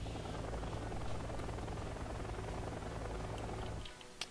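Military helicopters in a real-time strategy war game, a dense, steady rotor drone filling the scene for several seconds before cutting off abruptly near the end.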